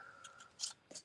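Scissors snip through paper during cardmaking, a few short crisp cuts in quick bursts, close and quiet with no talking.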